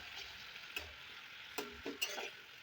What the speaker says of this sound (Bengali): দিয়ে ভালো করে নেড়ে চেড়ে ভেজে এটা কষে নেব।